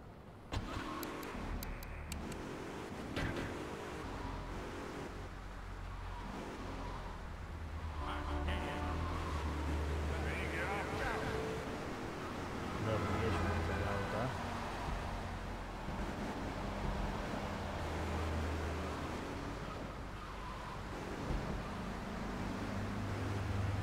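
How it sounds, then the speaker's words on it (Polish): Car driving in GTA 3, a steady engine drone with shifting pitch as it accelerates, mid-distance and continuous, with faint in-game voices and ambient noise around it. "Wezmę już nieuszkodzone autko, sobie tym pojadę."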